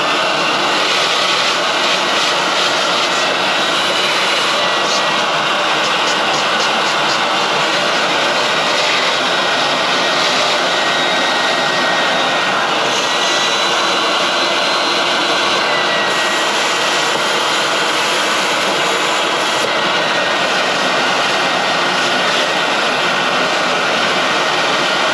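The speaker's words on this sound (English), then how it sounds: "Got the shop vac going." A shop vacuum runs steadily and loudly throughout, a constant roaring whine with a strong high-pitched tone, cleaning out chunks from a broken ice machine.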